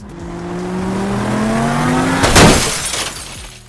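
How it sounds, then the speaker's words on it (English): A LEGO supercar model runs into a wall: a steadily rising engine-like whine builds for about two seconds, then a loud smashing impact follows with a burst of clattering, scattering plastic pieces. "Another car of this model is being driven into the wall."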